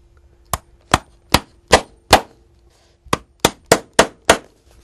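A shoemaker drives tacks through a shoe on a metal last plate so their points clinch over, giving sharp ringing hammer blows up close: five evenly spaced strikes, a brief pause, then five more, with no voices.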